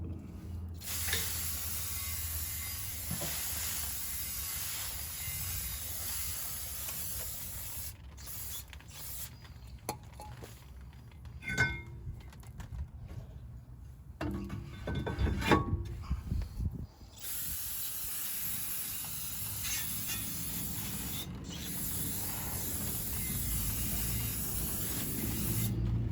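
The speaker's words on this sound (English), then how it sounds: "You want to spray off the whole rotor to get all that oil off of it." Carb cleaner sprayed onto the rear brake rotor of a 2009 Jeep Wrangler to strip off oil, heard as bursts of hissing spray amid clicks and mechanical creaks, with a louder, denser spray spell midway.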